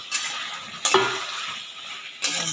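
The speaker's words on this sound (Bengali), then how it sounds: "ভালো করে আলুগুলোকে চিকেনের সাথে মিশিয়ে নেব" Chicken curry with added potatoes sizzling in a pan as a spoon stirs it, with soft continuous frying hiss broken by a few scraping clinks against the pan.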